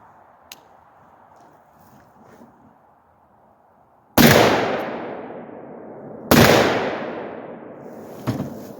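Two loud, close .308 rifle shots fired through a Deer Creek Stealth Blast muzzle brake, each a sharp blast with a long ringing decay, about two seconds apart, after quiet outdoor ambience.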